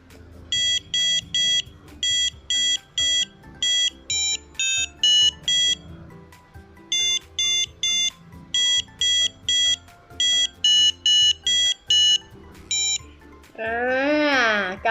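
A shrill electronic buzzer on a micro:bit beeps out Jingle Bells in short repeated bursts, with soft room noise underneath and a brief warbling tone at the end.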